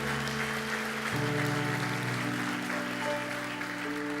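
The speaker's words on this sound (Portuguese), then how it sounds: "Dê o melhor aplauso que você pode dar ao Senhor." Applause from a church congregation at an evening service forms a soft, even wash beneath sustained keyboard or organ chords, with no talking over it.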